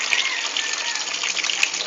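Water gushes steadily from a tap, a continuous hissing splash that stays loud and even throughout, with a couple of faint knocks and no clear talk over it.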